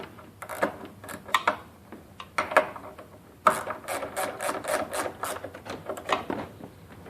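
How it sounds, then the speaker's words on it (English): Nuts being tightened with a 14mm wrench on the table of a Juki DDL-8700 industrial sewing machine, heard as close metallic clicks and ratcheting bursts that come in irregular clusters. "we're going to do is tighten these nuts. These nuts you're going to use either a 14mm wrench or 9/16 wrench"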